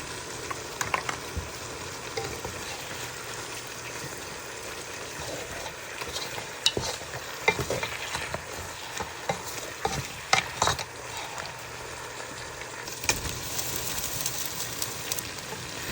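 Meat fries in a pan for Ethiopian alicha, a continuous close sizzle broken by scraping, clattering stirring strokes, with no voices.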